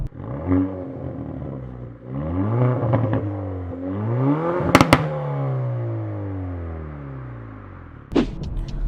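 Hyundai i30 Fastback N engine revving hard through several rising and falling sweeps, loud and close, with pops and crackles between revs and a final burst near the end.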